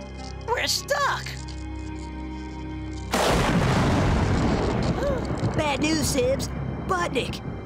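Cartoon gunfire in an animated Sonic Underground episode, a sudden burst of rapid cracking shots and booms after brief voices, with shouting over the barrage.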